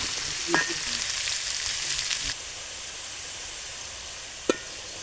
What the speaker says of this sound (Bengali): মান এবং আলু একসঙ্গে সুন্দর করে ভাজতে হবে এভাবে।